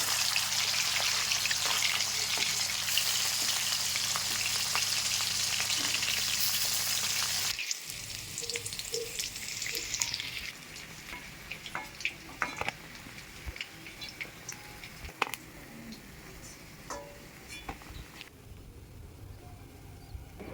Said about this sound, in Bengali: মাছ লাল লাল করে ভেজে নিয়েছি, এবার তুলে নেব। বাকি মাছগুলো এই একইভাবে ভেজে নেব।